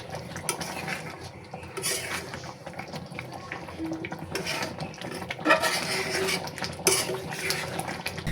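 Metal spoon scraping and clinking in a pot as melting ghee is stirred, a steady scratchy rattle with sharper knocks at a few points, fairly close.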